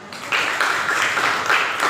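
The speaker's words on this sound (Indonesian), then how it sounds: "Baik anak-anak, tepuk tangan untuk kita dulu" Children in a classroom clap their hands together, a dense, steady burst of applause that starts after a brief pause and carries evenly at close range.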